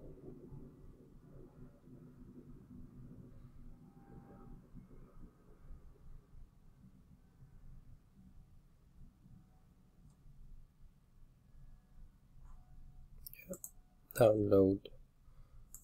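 Computer mouse clicks while downloading data as a spreadsheet table, a few quick, faint clicks near the end of a long stretch of steady talk, with a voice speaking right over them.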